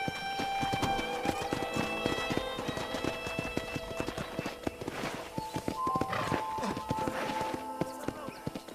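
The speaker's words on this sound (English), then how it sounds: "let's see if you can still ride a horse" Horse hooves clip-clopping at a steady walking rhythm while riding around a ranch in Red Dead Redemption on Xbox One X, with game music tones and a voice speaking over it.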